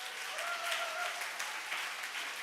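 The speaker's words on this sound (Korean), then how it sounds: "박수 한번 쳐주시기 바랍니다" A church congregation applauds during a sermon, a soft, steady patter of many hands clapping heard from some distance, with no voices over it.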